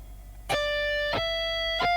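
An electric guitar plays three notes high up the neck, each one ringing with bright overtones close to a pinch harmonic and separated by short percussive ghost-muted attacks, clear and alone.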